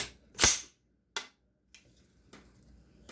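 AR-platform rifle dry-fired during a function check, with a crisp metallic snap from the released charging handle followed by a softer trigger click and faint handling rattles, close and quiet, with no speech.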